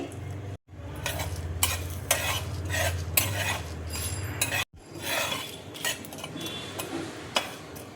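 Crackling sizzle of whole spices, cloves, cardamom and dried red chillies, frying in hot oil, broken by sharp metallic clinks and scrapes of a spoon stirring in the pan.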